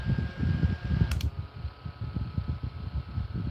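A small DC-powered electric fan runs with a steady, fluttering whir and a soft rhythmic pulsing from the blades, fairly quiet and close, with no voices.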